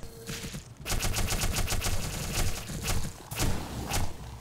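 Gunfire from a weapon in the shooter Black Mesa: rapid, steady bursts of shots in two long runs separated by a brief pause, moderately loud and close, with no talking over it.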